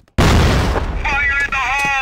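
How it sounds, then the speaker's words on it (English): A flash bomb grenade bursts in the Crossfire shooter game, a loud sudden blast after brief silence, followed by a ringing, wavering high tone that lingers with faint clicks. "Flash bomb! Fire in the hole! Flash bomb!"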